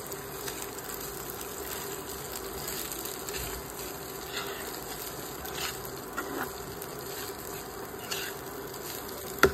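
Washed, lightly dried flattened rice (chire) tipped into a hot pan for poha and stirred, giving a steady low sizzle with soft scraping and stirring noises throughout, no talking.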